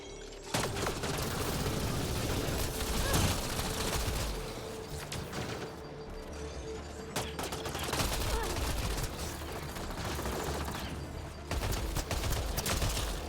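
Sustained gunfire and automatic weapon bursts in the sci-fi shooter Mass Effect Andromeda, loud and dense across the whole stretch, with repeated volleys and mechanical clatter.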